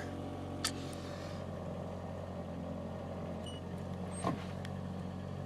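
A 1982 BMW 325 engine idles in park with a steady, low, even hum. The hum continues unchanged throughout, broken only by a couple of faint clicks.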